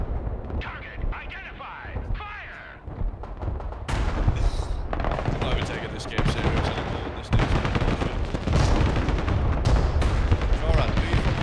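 Gunfire and artillery from the video game Broken Arrow form a loud, dense barrage of booms and rapid shots that continues throughout, and a voice talks over it.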